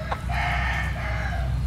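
A red, white-legged Asil rooster crows once nearby, a loud, drawn-out call over a steady low background rumble, with no talking.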